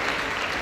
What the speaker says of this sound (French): Je viens d'applaudir Pierre Fanel.